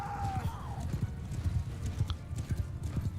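Cavalry hooves galloping in the video game Mount & Blade II: Bannerlord, a dense, continuous rhythmic clatter of many horses, with a brief whinny near the start.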